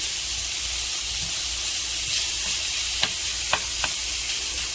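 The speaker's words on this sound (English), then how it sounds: "Now while that bacon cooking" Bacon fries in a pan with a steady, broad sizzling hiss, joined by a few faint clicks of a wooden spoon stirring. It is moderately loud, with no voices.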